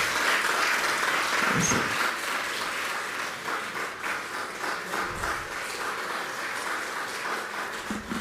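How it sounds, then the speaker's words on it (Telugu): Church congregation applauding together after a prayer, a steady wash of clapping that fills the room for the whole stretch, with a brief murmur of voices underneath. "అందరూ చప్పట్లు కొట్టండి"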